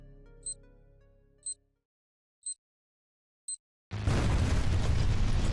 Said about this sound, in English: that was a nice stealthy explosion